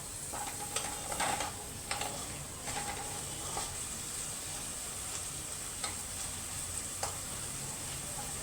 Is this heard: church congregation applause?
no